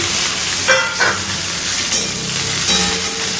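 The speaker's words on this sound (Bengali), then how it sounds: "আলু ঢেঁড়সের তরকারিতে আলুটা জাস্ট একটু ফ্রাই করে দিয়ে তারপরে ঢেঁড়সটা দেবো।" Okra and potato frying in a pan, a steady close sizzle with a few louder stirring scrapes and crackles spread through.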